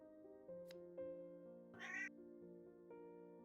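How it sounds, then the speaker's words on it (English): A cat meows once, clear and drawn out, in the middle of a quiet stretch with soft steady tones from a tabletop game session beneath it. "I heard a fucking cat."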